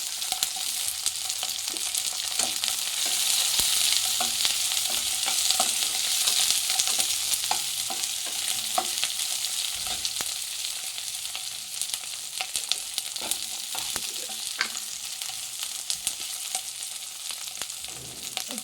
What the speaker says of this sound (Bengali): তারপর আমি দিয়ে দেবো ক্যাপসিকাম একটু হালকা করে ভেজে নেবো আর কি